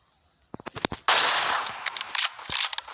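Video game gunfire, with a quick burst of sharp shots followed by a sustained loud blast and scattered further shots. The sounds are close and punchy.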